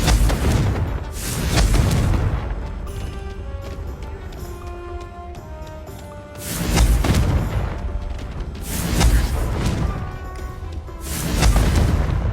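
Confringo fire-blast spell going off in the Hogwarts Legacy game, a heavy booming explosion repeated several times at a steady rhythm, each burst swelling loud and broad against a continuous rumbling background of battle sound.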